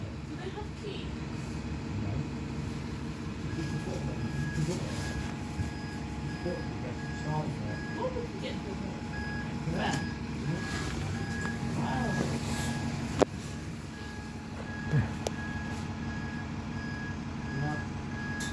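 Stagecoach Trident double-decker bus pulling away from a stop, its engine a steady low rumble under ongoing station noise. A repeating reversing beep and a voice are also heard.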